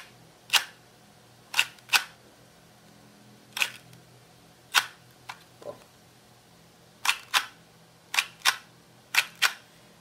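The slide of a cardboard Sig P226 replica is worked back and forth, producing about a dozen crisp, dry clicks, often in quick pairs, with short pauses between them in an otherwise quiet room.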